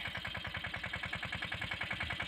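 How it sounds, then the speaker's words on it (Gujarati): A mini tractor engine runs close by in a peanut field, giving off a quick, regular chugging clatter at moderate loudness, with no voices. "આપણું ટ્રેક્ટર પડખે આવી ગયું છે"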